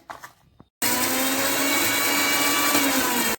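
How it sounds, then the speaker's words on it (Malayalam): A mixer grinder starts abruptly after a faint clatter and runs loud and steady grinding roasted chillies, a harsh whirring roar that continues to the end. "മിക്സിയുടെ ജാറിലേക്ക് നമുക്ക് നമ്മൾ വറുത്ത് മാറ്റി വെച്ചിരിക്കുന്ന മുളക് ഇട്ട് കൊടുത്തൊന്ന് പൊടിച്ചെടുക്കണം"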